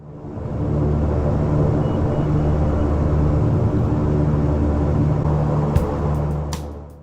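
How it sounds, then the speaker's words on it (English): Airliner taxiing to the terminal after landing at King Island, with a steady, continuous engine drone and rumble heard from inside the cabin, plus a few brief clicks near the end. "After landing, we taxied to the terminal via Charlie."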